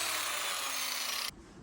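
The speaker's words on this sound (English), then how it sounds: "I'm using an angle grinder with a coarse sanding disc to shape the end of the board." Angle grinder fitted with a coarse sanding disc shaping the end of a wooden board in a cottage workshop, a loud steady abrasive roar that holds close and constant, then cuts off abruptly near the end.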